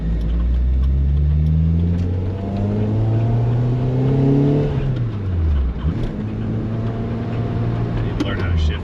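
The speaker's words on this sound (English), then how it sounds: "I need to learn how to shift this car." A Lotus Elise 1.8 sports car drives on a road, its engine revving up through rising pitch, dropping as it shifts gears, then pulling again; loud and close from inside the car.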